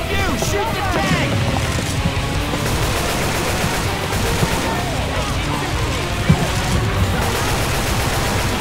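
Rapid gunfire from players shooting at a Tank in the co-op zombie shooter Left 4 Dead 2, a dense continuous barrage of shots mixed with game noise while players talk over it.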